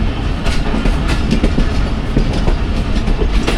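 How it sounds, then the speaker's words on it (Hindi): A train runs through a railway station in Pakistan on the Rawalpindi to Lahore line, close and loud, with a steady rumble and rhythmic clickety-clack of wheels on rail joints. No one speaks. "हमारी ट्रेन को साइड पर रोका जाए और थ्रू गुजारा जाए बाकी ट्रेनों को"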